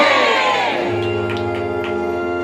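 A devotional kirtan audience cheers and whoops in praise of Radha Rani, a loud burst of crowd shouting that settles beneath a sustained instrumental drone, with a few scattered calls.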